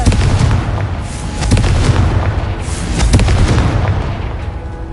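Confringo spell explosion in the video game Hogwarts Legacy, a loud, dense burst of booming blasts with several sharp impacts that keep rumbling throughout, with no talking.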